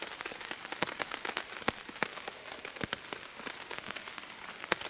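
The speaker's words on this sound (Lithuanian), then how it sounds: "Rimsta jau lietus." Rain easing off on a tent pitched on an uninhabited island, with scattered sharp drips and drops striking the fabric in an irregular patter over a soft, steady wash, close and fairly quiet.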